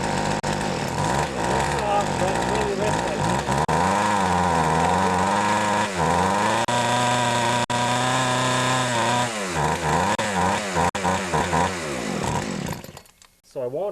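A Poulan chainsaw engine with its carburetor knocked out of tune, running way too rich: a loud, close, continuous raspy drone that surges and sags repeatedly before cutting out near the end.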